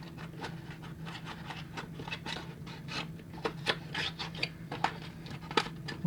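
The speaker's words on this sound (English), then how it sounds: "I don't know why this box is proving so difficult to open. But the metal ruler will cure that." A metal ruler prying at a stubborn cardboard box holding a 1/64 Kyosho Nissan R89C model car, making close scraping and rubbing sounds with irregular sharper scratches and clicks that grow more forceful toward the end.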